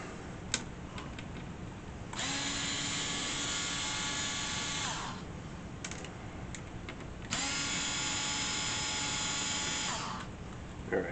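A power screwdriver backs out the four casing screws of an Atari 410 Program Recorder, running in two steady whirring bursts of about three seconds each, separated by brief clicks and handling noise, close up with no talk.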